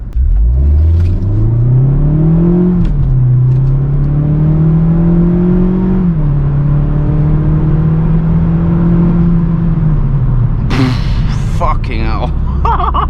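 A car engine accelerates on a public highway, loud and close from inside, revving up through gears with rising whine and steady drone, then a burst of rushing wind noise near the end.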